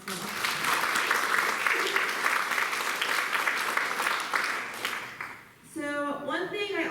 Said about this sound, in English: So let's give them a round of applause as well.